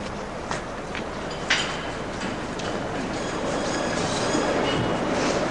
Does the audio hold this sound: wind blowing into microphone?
no